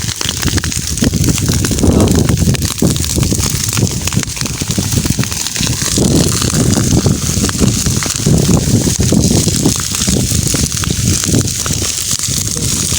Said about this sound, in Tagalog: Tingnan naman ang apoy.